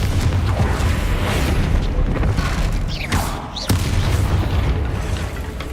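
Confringo fire spell explosions in the video game Hogwarts Legacy, loud booming blasts and bursts layered over dense game noise, with a sharp whooshing crack near the middle, no talk.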